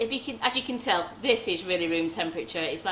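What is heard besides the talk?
No everyday noise stands out behind the speech.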